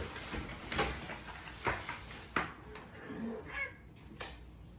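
A house cat meows a few times at close range, short cries spaced a second or so apart over low room noise, with some quiet human voice.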